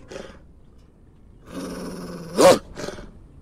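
Wolf growling in the horror video game We Harvest Shadows: a short growl, then a sustained rumbling snarl that peaks in a loud, harsh burst before one last brief growl, all close and without talk.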